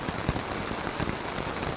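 Heavy rain mixed with hail pours onto a tarp during an overnight camp in Tyresta National Park, a loud, dense patter with close individual drop impacts and no voices.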